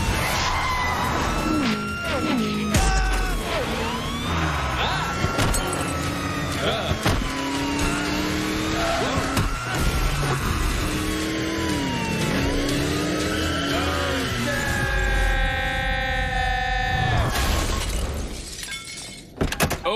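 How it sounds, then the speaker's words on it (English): A stretch limo in a cartoon pulls over amid a loud, busy mix of engine noise, screeching tones and crashing effects, with voices and music-like tones layered throughout. "Pull over the stretch vehicle."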